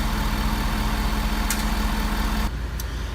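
A Ford Super Duty pickup truck engine idling cold in park with a steady low drone and hum, plus a couple of faint clicks; the sound drops and thins abruptly near the end.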